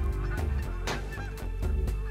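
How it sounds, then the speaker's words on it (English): Geese honk repeatedly in The Hunter Call of the Wild, a cluster of loud nasal calls in quick succession with no one talking. "Hi, Geese. I hear you."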